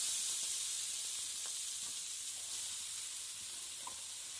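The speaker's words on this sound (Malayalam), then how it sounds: "കടുക് നന്നായി പൊട്ടിക്കഴിഞ്ഞതിന് ശേഷം നമ്മൾ തയ്യാറാക്കി വെച്ച് ചീര ഇട്ട് കൊടുക്കാം." Chaya mansa leaves dropped into hot coconut oil with popped mustard seeds give a soft, even sizzle and hiss, with a few faint pops scattered through it.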